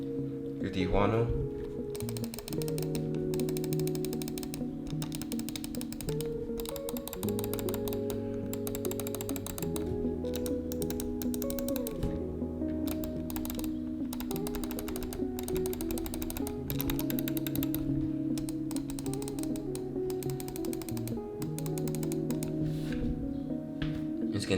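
Gaming mouse with Huano switches clicked repeatedly, crisp close clicks in irregular bursts throughout, heard over steady background music.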